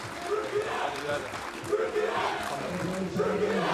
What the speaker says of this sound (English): And the chant goes up.